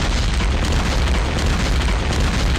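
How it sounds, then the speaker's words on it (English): Dense, continuous artillery explosions roll through a Steel Panthers: World at War game, a loud unbroken wall of low booms and rumbling bursts with no clear gaps, and no voices. "Let's take the artillery in the face"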